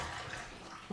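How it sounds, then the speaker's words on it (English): Cold water runs from a tap into a kitchen sink, a steady broad hiss of flowing water, moderately close and fairly quiet, with a brief splash or clunk at the very end. "put this in a sink, but first a little cold water."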